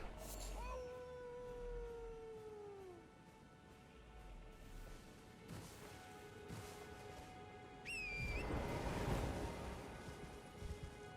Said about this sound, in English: is it just me, or do the wolves sound like someone saying howl?